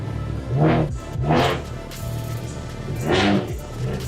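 A BMW 135 tuned beyond 500 kW revs up in three separate surges, each rising sharply in pitch and loudness before dropping back to a lower idle rumble.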